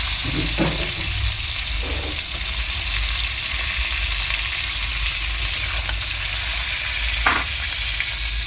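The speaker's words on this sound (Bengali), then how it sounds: "ওই তেলের মধ্যে আমি দিয়ে দেবো এখানে পটল" Pieces of pointed gourd sizzle in hot oil in a home kitchen, a loud, continuous frying hiss with a few soft stirring knocks scattered throughout.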